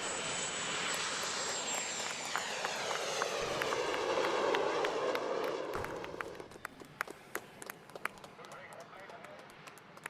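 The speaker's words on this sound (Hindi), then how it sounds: "High speed flying wing drone का सफल टेस्ट किया गया है।" A high-speed flying-wing drone in a DRDO test flight passes with a loud jet whine that sweeps downward, swells, then fades into distant rumble and scattered clicks, with someone talking over it.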